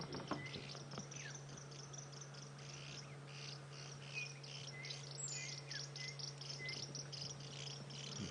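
A flock of white-crested helmet shrikes keeps in contact while feeding, giving repeated short chattering calls at moderate distance over a constant insect drone and a low steady hum.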